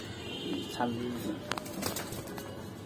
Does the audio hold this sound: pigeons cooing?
yes